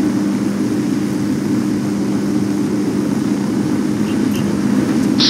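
Steady helicopter rotor and engine drone inside a video game, loud and continuous throughout, with a faint brief tone near the end.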